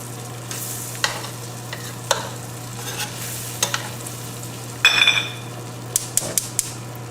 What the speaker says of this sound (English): Let the garlic sit in the butter for a couple minutes.